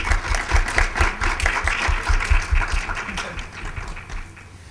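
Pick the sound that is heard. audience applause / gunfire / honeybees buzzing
audience applause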